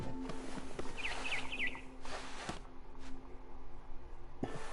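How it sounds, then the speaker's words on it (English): A barn swallow chirps outside a window in the video game What Remains of Edith Finch: a quick run of three or four thin, high chirps over a steady ambient background, with soft thuds now and then. "Then I heard chirping outside my window. It was a barn swallow going back to her nest."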